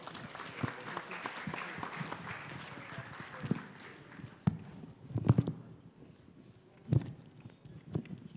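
An investor summit audience gives a round of applause for Lino Bernardo, scattered claps rising and falling with a few sharp, nearby hand strikes, while someone talks faintly in the background.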